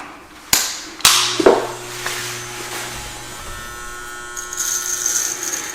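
Electric hair clippers fitted with a 3/8 guard buzz through hair on a scalp during a home haircut, a steady close hum broken by a few sharp clicks and bumps near the start.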